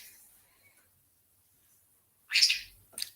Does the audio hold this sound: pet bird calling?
yes